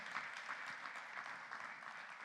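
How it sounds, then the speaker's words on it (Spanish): A congregation at a Spanish-language church service applauds in praise of God. The clapping is soft and distant, a continuous patter of many hands at low level with no clear voice over it. "Dele un aplauso a nuestro Dios."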